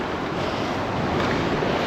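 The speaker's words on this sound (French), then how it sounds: "belle vague qui vient de passer" A wave rolls past a solo sailboat crossing the Atlantic under full mainsail and poled-out genoa, giving a steady broadband wash of surf and water noise with wind buffeting the microphone throughout, close and fairly loud.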